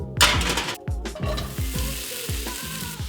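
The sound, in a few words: chicken breast and mushrooms sautéing in a pan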